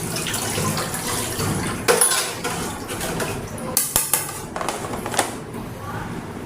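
Water trickles slowly from a tap into a basin alongside clinks of dishes and a few sharp knocks, with a voice speaking briefly.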